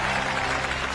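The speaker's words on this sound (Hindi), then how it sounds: "ताली बजाओ" An audience claps in a short, dense burst, steady and fairly loud throughout, with no pause or voice standing out.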